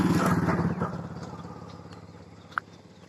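Vehicles, including what sounds like a motorcycle engine, pass over the new Rajapur bridge; a loud engine rumble at the start fades as it moves away, leaving a steady distant drone and one sharp click near the end.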